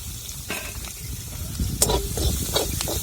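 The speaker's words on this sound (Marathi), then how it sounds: "आपण जो कांदा कापलेला आहे एकदम बारीक तो आपल्याला परतून घ्यायचा आहे व्यवस्थित" Finely chopped onion sautéing in oil in a kadai, with a continuous crackling sizzle and intermittent sharp scrapes of stirring that grow busier toward the end.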